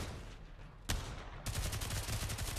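Gunfire in the Pavlov VR shooter's zombie mode, a sharp crack followed by a rapid string of shots blasting loud and close.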